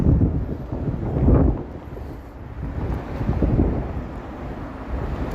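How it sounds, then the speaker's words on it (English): Strong, cold evening wind buffets a microphone outdoors in downtown Toronto, producing loud, low rumbling gusts that swell and fade in uneven waves with no voices. "This wind, man, holy moly."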